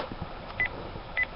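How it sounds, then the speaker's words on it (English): Two short phone dialing tones sound about half a second apart over a quiet background hiss. "You hear that noise? That's me dialing."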